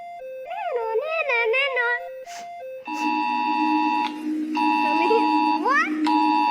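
A USA emergency alert system alarm blares loud and steady tones in long repeated bursts, preceded by a short melodic electronic jingle, with brief gaps between bursts.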